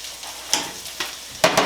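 Pineapple fried rice sizzles in a pan, with a soft crackling bed broken by three distinct bursts of scraping and hissing as it is stirred.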